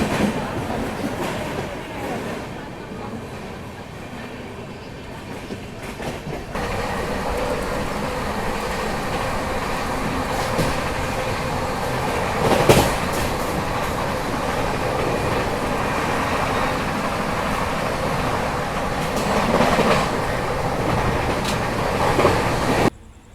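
The 12351 Howrah - Rajendranagar SF Express rumbles along at speed, a loud, steady roar of wheels and carriage noise heard from inside, with occasional louder knocks and no clear talk.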